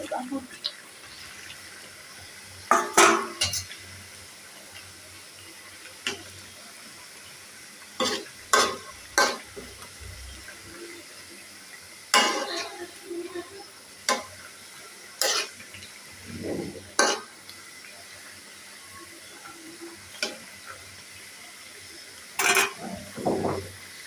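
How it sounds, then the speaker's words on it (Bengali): A fish curry with taro, eggplant and pointed gourd bubbles in a pan while a spoon scrapes through it in irregular bursts, fairly close, with a faint simmer between strokes and occasional voices. "তরকারি ফুটছে"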